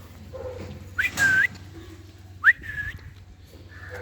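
A small puppy gives two short, high whimpers that rise in pitch, followed by a faint, softer whine, against a low steady hum and light background noise.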